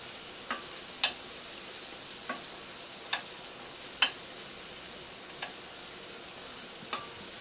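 Chicken sizzling in a skillet for tikka masala, a steady low fry hiss broken by a handful of sharp, separate clicks and taps as the pieces are stirred and moved around, with no one speaking.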